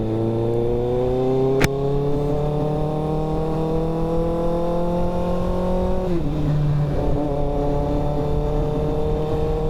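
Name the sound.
motorcycle engine revving while riding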